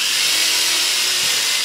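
A drill bit bores through wood while a coat rack is being built: a steady, loud, close whirring grind that holds even throughout and rises slightly at the very end.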